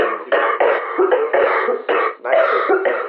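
A man coughs and clears his throat again and again in rough, harsh bursts, close up with no speech around them.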